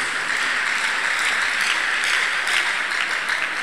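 A church congregation applauds at a healing service, broad continuous clapping filling the room evenly for several seconds.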